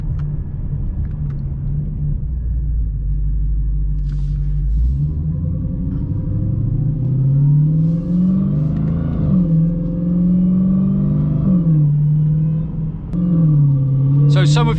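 A Dodge Hellcat XR widebody's heavy engine rumbles low, then rises into a drawn-out rev and swells again near the end, loud and close with steady throbbing tone.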